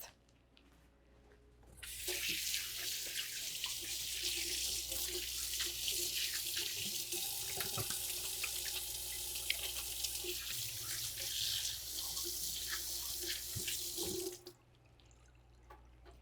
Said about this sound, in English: I'm going to wash my hands as soon as I finish this before I actually cook them